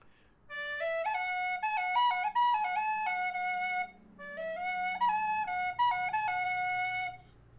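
A low tin whistle plays a bright, quick melody in two phrases separated by a short pause, clear and close with ornamented runs.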